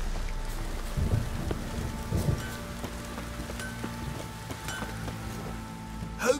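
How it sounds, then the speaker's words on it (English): Heavy downpour in the Witcher 3 game world, a steady hiss of rain on surfaces with faint low rumbles and occasional drips, fairly quiet and continuous throughout. "This downpour's a bastard in it."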